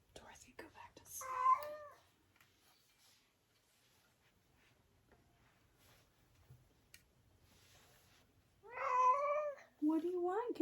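A house cat named Connor meows up close in a quiet room, one meow near the start and a longer pair near the end, with soft rustles and faint background murmur between.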